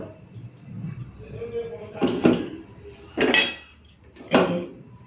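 Rice is served from cooking pots, with three distinct metallic clinks of utensils against pots at a steady pace, spaced over quieter background handling and soft murmuring.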